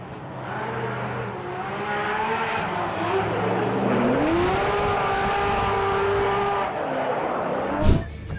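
A rear-wheel-drive Toyota drift car with a nitrous-fed four-cylinder engine revs hard while warming its tires, the engine note climbing and holding in a rising whine before a sharp crack at the end.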